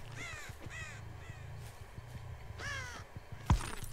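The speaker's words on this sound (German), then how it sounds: "Die Raben setzen sich gerade wieder alle." Crows in the Dead by Daylight video game give a few hoarse caws over a low ambient hum, moderately near, with a sharp click near the end and no talking.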